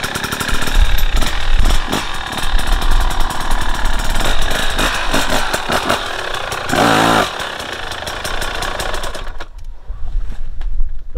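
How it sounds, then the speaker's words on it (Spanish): Enduro motorcycle in first gear, clutch slipped to climb a step: a loud, continuous engine roar with a rising surge midway, then easing off toward the end. "con primera picamos embrague y subimos el escalón"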